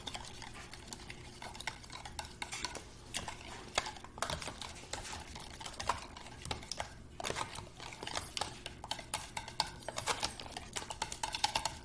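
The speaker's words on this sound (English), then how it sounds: "I'm gonna take a whisk and just whisk that together." Scone batter whisked in a bowl with a steady run of quick, rhythmic clicking and scraping strokes that continue close and unbroken throughout.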